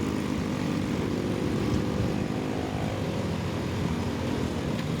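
A Suzuki Smash motorcycle engine drones steadily while riding and overtaking on a road near Carmona, Cavite, heard as a continuous buzzing hum with wind rush, fairly loud and unbroken, no speech.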